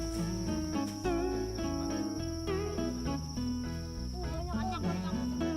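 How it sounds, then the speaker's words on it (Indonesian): Thousands of adult crickets fill a farm enclosure with steady, continuous high-pitched chirping that persists as a constant background beneath loud music. "Dalam satu kandang ini bisa terdapat ribuan jangkrik dewasa yang siap dijadikan pakan hewan"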